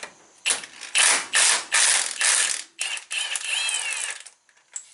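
Ratchet with a thin-wall spark plug socket working lug nuts on a 1968 Chevelle wheel: close, loud bursts of rapid clicking ratchet strokes with short pauses, followed by a longer run of lighter ticking.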